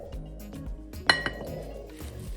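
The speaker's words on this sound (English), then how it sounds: "Just mix the flour in until it's dissolved." Spoon clinking against a bowl while flour is stirred into an eggplant mixture, light repeated taps and scrapes with one sharper clink near the middle.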